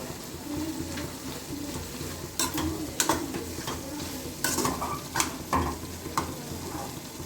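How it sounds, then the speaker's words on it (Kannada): Ridge gourd stir-fry being stirred in a hot pan: a steady sizzle runs throughout, broken by several sharp scrapes and clinks of the spoon against the pan, close and fairly loud, with no talk. "ಈಗ ಚೆನ್ನಾಗಿ ಮಿಕ್ಸ್ ಮಾಡ್ಕೊಳ್ಳೋಣ."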